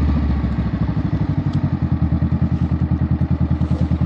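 A Honda Rebel 500 motorcycle engine runs at a steady idle up close, its low, loud, even pulsing thump repeating rapidly and unchanging throughout.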